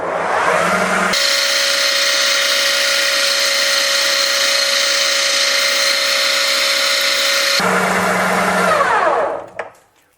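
A power tool grinding down a polyurethane suspension bushing for a Jeep Willys, a loud, steady high-pitched whine running about six seconds between shorter rougher passes, then spinning down at the end.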